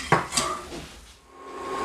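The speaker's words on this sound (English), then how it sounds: "I'm going to add the plain flour into that and whisk it well" Whisk clinking and scraping against a pot while plain flour is worked into a seafood sauce, a few sharp metallic taps followed by softer stirring, close up.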